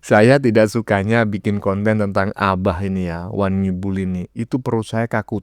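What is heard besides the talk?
No distinct noise like a dog, phone or traffic.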